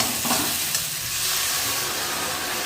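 Boiled ingredients poured into a hot, sizzling pan for a Bengali home dish, giving a steady close frying hiss with faint stirring, continuous and without any talk.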